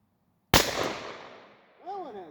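A percussion cap gun fires a single loud, sharp shot that decays over about a second, followed by a brief voice.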